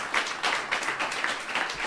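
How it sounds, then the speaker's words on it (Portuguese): A church congregation bursts into applause, a dense wash of hand claps rising and falling in quick waves at close range. "Aplauda a Jesus aí."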